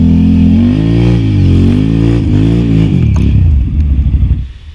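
A 2018 Can-Am Renegade XMR ATV engine revs loud and close, its pitch rising and falling through several throttle swells before cutting back and fading near the end.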